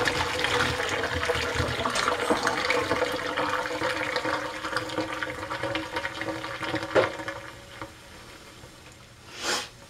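Pasta water is poured off through a drain in a home kitchen, a steady rushing splash of liquid that tapers off toward the end with a final clunk, no talk.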